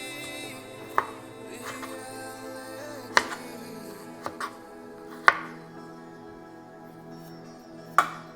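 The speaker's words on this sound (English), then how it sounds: "So I chop the skin off and then cut these into bits." Knife chopping fresh ginger on a board for a tomato-chicken stew, five or six sharp separate cuts spaced a second or two apart, close and crisp over a quiet background.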